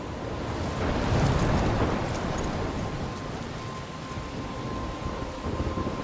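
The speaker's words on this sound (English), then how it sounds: "I'm trapped in a storm?" Storm in Life Is Strange: steady heavy rain hiss with a low thunder rumble swelling early on, continuous and enveloping with no voices.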